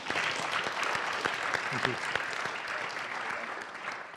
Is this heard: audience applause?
yes